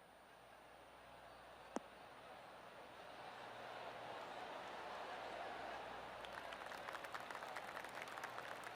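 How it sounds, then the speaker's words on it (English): Spectators in the PGA Tour 2K23 golf game break into soft, scattered golf clapping that swells gently after a single sharp knock, faint and continuous without any talk. "Oh, golf clap."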